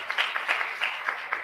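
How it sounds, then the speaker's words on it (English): Applause from an audience at a youth festival panel session, a short patter of clapping with a few sharper claps, distant and faint. "Warm round of applause, everyone."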